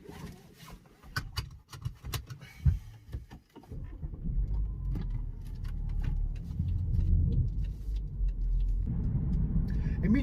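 A 2018 BMW X5 xDrive 30d cruises in comfort mode, its low, steady road and engine rumble building and holding after some interior clicks and rustling at the start.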